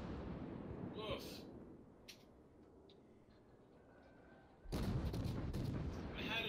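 Naval gunfire from a US battleship Colorado in a World of Warships–style naval video game: a heavy salvo booms in loudly near the end after quieter rumbling and a couple of brief shots, with people talking over the game.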